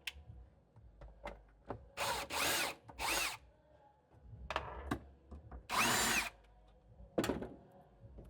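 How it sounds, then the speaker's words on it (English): A power tool unbolts bolts inside a Ford Bronco in three main whirring bursts, each about half a second long, separated by quiet handling clicks and ending with a brief final burst. "So we'll start off by unbolting it."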